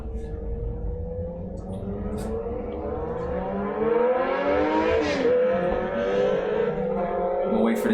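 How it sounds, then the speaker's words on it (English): A motorcycle passes by on the road, its engine note rising in pitch and loudness as it approaches and sweeping down as it goes by, over a steady traffic rumble. "I'm gonna wait for this dickhead on the motorcycle to pass by."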